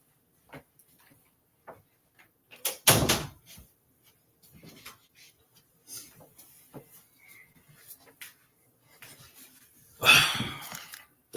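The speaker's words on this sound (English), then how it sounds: "let me close my door" An indoor door swings shut with a single firm thud near the start, followed by scattered quieter knocks and movement, then another louder bump toward the end.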